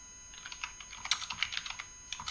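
Computer keyboard typed on while writing a first Python program: a quiet run of irregular key clicks with short pauses, no voices.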